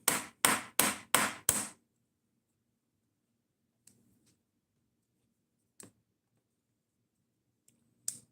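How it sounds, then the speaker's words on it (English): A Kershaw knife is tapped together with a hammer: five quick, sharp blows in a row, then a few faint, scattered taps and clicks amid near silence. "One of the few knives that I've had to put together with a hammer."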